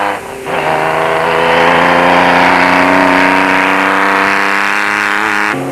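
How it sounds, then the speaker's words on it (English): A Toyota Hilux rally truck engine runs loud and steady in a Toyota 1000 desert race in 1995. It holds a sustained mid-pitched drone with a brief dip at the start before settling into an even roar. "The Toyota Hilux was still sounding good"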